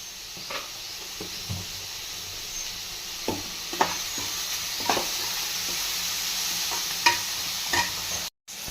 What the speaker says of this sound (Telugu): ఇది కూడా బాగా ఫ్రై చేసుకోవాలా